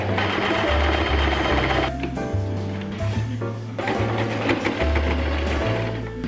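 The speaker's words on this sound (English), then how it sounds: "It's my first time using sewing machine." A sewing machine stitches a fabric face mask steadily with a loud rapid mechanical whir, briefly pausing and restarting several times, close up with no talking.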